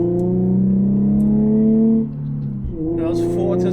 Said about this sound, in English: That was 4 to second heel toe. Rev match beautifully.